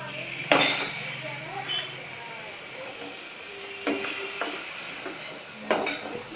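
Vegetables with curd fry in a pan, a quiet continuous sizzle punctuated by a few sharp metallic clinks and scrapes of a spoon against the pan, close up and without talk.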